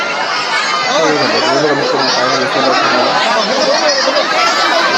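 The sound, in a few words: crowd of zoo visitors chattering near tiger enclosure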